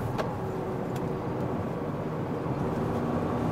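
A Kia Carens diesel automatic revs up as the gearbox kicks down on an incline, giving a steady, fairly loud engine drone heard from inside the cabin with no talking.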